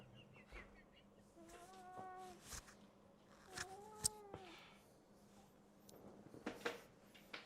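A cat gives two drawn-out meows a couple of seconds apart, close and fairly quiet, amid faint rustling and handling noises.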